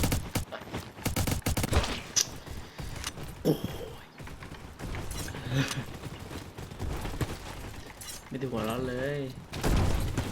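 Rapid bursts of gunfire crackle through a busy game soundtrack, with excited voices talking over the shots throughout.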